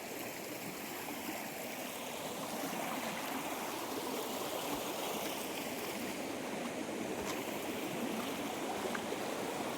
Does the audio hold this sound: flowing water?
yes